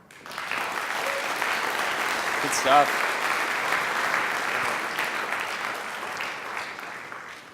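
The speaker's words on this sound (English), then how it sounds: "round of applause for Brian" Audience applause for a conference speaker, a steady dense wash of many hands clapping from start to finish, with a brief spoken comment partway through.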